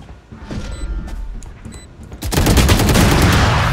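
Video game gunfire: scattered mechanical clicks and shots give way to a loud, sustained burst of rapid automatic fire in the second half.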